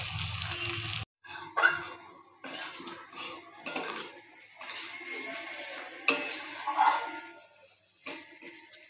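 Rui fish curry is stirred and sautéed in a pan, with repeated soft scrapes and clinks of a utensil against metal over a faint sizzle, close and quiet.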